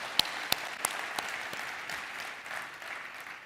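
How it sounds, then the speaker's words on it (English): A crowd of partners and team members at a Legrand India corporate gathering breaks into applause, a few loud close claps at the start giving way to a softer, sustained spread of clapping. "Let's give a big round of applause."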